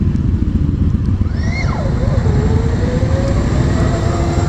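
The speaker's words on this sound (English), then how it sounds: "Wow, this is pretty much like riding a sport bike." A Victory Empulse electric motorcycle being ridden, a rising then falling electric whine over steady heavy wind and road rush, close and loud, with no talk.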